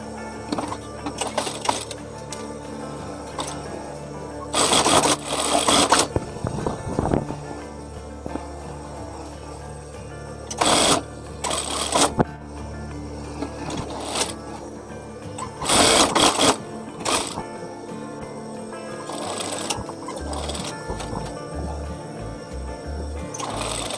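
Sewing machine stitching the side seams of a round-collar gamis, a rapid mechanical whir in bursts of a second or two, separated by a softer background hum.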